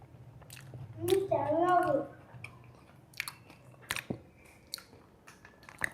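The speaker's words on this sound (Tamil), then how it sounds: "இந்த ஷிவ் சாப்பிட்டு டேஸ்ட் பண்ணுவோங்க" Someone bites into and chews a Kunafa chocolate bar, giving a short burst of crunching and squishing near the mic, followed by softer mouth sounds and small clicks.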